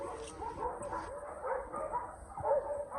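Dogs barking quietly in the distance along the Yellow Trail at Camp John Hay, a few soft barks and yips spread over a few seconds with no talking.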